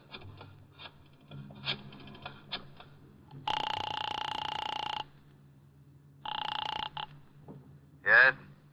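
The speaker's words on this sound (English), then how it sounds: "I dialed the Kelsey residence." A telephone dialing sound effect from a vintage radio crime drama, with faint clicks followed by two long buzzing tones and a short rattling ring, recorded in an older, thin broadcast style.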